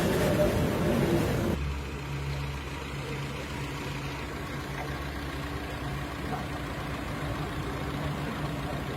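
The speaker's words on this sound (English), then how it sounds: "This is the test for engine idling without the hydrogen generator." A car engine idles steadily without a hydrogen generator attached, a low, even rumble at moderate distance after a brief louder onset.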